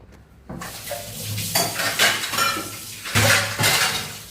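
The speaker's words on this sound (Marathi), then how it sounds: "सगळे भांडी भिजवून घेते आधी" Dishes and cutlery clatter and clink in several loud bursts, pots knocking together close by with a faint sizzle underneath.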